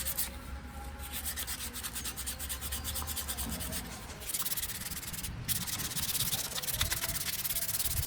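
Hand sanding of a wooden Y-branch slingshot produces a continuous close scratchy rasp of rapid strokes that grow slightly louder and brighter in the second half, with no voices.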